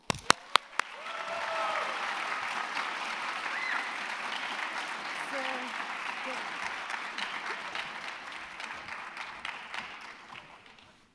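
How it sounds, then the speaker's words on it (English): At the 2023 Simi Valley Youth Town Hall, a crowd welcomes the youth council vice chair with sustained applause that follows a few sharp opening claps, stays steady, then gradually fades. "Please give a riveting, warm, and rowdy round of applause to Abhishek Jagannathan"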